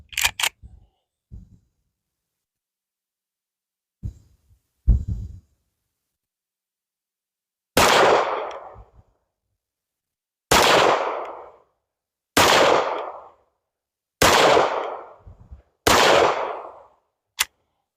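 Sharp, loud pistol shots from a Smith & Wesson 5.7 at an outdoor shooting range, fired one at a time with pauses of about two seconds, each crack trailing into a short echo, with a few quieter clicks and knocks earlier.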